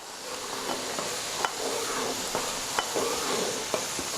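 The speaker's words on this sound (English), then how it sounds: "our sauce is boiling over here. Just keep stirring her up." Sauce boiling in a pan on the stove while being stirred, a steady bubbling sizzle with occasional sharp clicks of the utensil against the pan, close and continuous with no talking.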